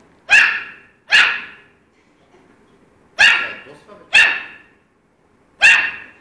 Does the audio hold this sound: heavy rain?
no